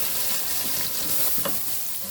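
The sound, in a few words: frying powdered spices on low heat for tomato salan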